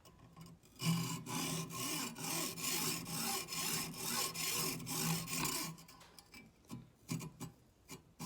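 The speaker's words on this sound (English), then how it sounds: "I'm going to turn it in the vise so that I score it all the way around." A fiberglass tent pole from a Eureka Tetragon 3 tent is scored while being turned in a vise, giving steady rhythmic rasping strokes up close, then a few shorter scrapes at the end.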